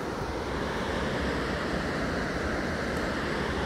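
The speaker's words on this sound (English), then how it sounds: "You guys can see the whole waterfall right there." Lampson Falls waterfall pours in a steady, loud, broadband roar that stays unbroken throughout, with wind buffeting the microphone outdoors.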